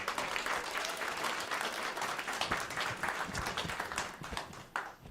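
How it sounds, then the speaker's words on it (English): An audience at a talk event on New York City's natural areas gives a dense round of applause, steady and close, then tapering off toward the end. "One more round of applause for Christy King."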